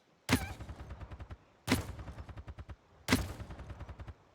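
Three separate volleys of gunshots striking a target in the shooter Paladins, each opening with a sharp loud crack followed by a quick, fading rattle of rapid shots, with short silent pauses between volleys.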